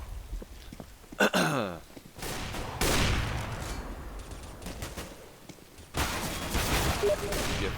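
Pistol fire in Counter-Strike: a series of sharp shot bursts and rapid volleys ring out over several seconds, some near and loud, others farther off, mixed with footsteps and in-game bustle.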